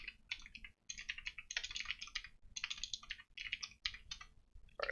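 Rapid typing on a computer keyboard while writing code, bursts of crisp clicking key strikes with brief pauses between runs, close and clear, no talking.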